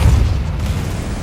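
Confringo spell explosion in Hogwarts Legacy, a loud deep boom with heavy low rumble that rolls on and slowly fades.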